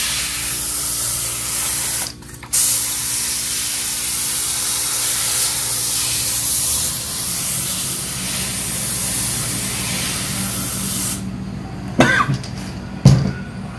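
A spray bottle mists a 50/50 vinegar and water mix onto pork back ribs during barbecue smoking, a long steady loud hiss with short breaks and a few cough-like bursts near the end.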